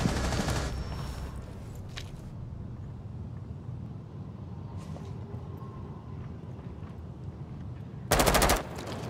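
Automatic gunfire in the Rainbow Six Siege shooter on the Favela map. A sharp, loud burst rises near the end above a steady game background hum, with fainter shots and clatter earlier.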